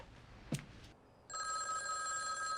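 Telephone in an episode of the TV drama Mad Men: after a short knock and a pause, a bright, sustained electric bell ring begins and continues steadily at moderate loudness, alone without speech.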